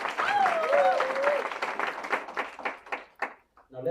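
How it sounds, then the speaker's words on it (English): At a graduation ceremony, an audience breaks into applause for an honoree: dense clapping swells and then thins out to scattered claps, with a voice and a whistle cutting through at the start. "A round of applause for Yukabeth."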